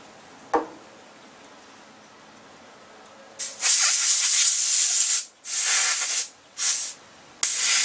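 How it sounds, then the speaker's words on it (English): Aerosol carb cleaner sprayed in several hissing bursts into the plugged carburetor jet of a Briggs and Stratton small engine, with a sharp click first, then four loud close sprays of varying length separated by brief pauses. "Give it a little shot of carb clean here."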